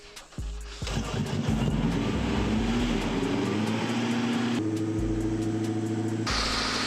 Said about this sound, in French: on va démarrer la E36 à Dylan